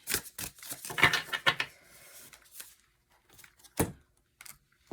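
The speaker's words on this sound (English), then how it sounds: "I'm going to go ahead and shuffle each deck" Cards being shuffled close by: a rapid riffling patter for a couple of seconds, then a few separate soft snaps and rustles.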